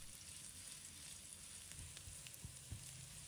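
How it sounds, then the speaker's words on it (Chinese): Ginger and garlic stir-frying in a small amount of cooking oil in a wok, a steady close sizzle with occasional crackles and light stirring scrapes, no voices. "倒入少量的食用油，把姜蒜放入锅中，把它炒香"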